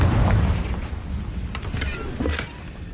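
Spell blasts in a wizarding video game, a few sharp bright bursts cracking out over a rumbling low background.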